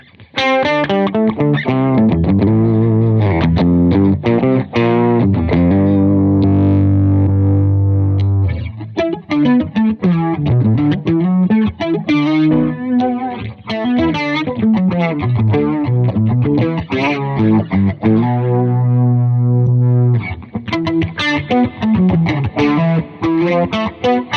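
Electric guitar run through a POG-style octave effect patch, playing a continuous melodic line with thick layered tones and steady, loud note changes throughout.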